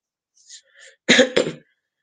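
Two harsh coughs from a person with a cold, close and loud, after a few faint softer breathy sounds.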